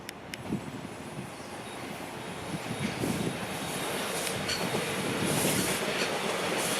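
A Toronto subway train rumbles past in Scarborough, a steady roar of wheels on track building gradually louder, with faint squeals and rattling.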